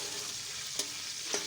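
Cardamom, cloves and cinnamon frying lightly in oil in a pot, a soft, even sizzle close by, broken by two brief stirring scrapes.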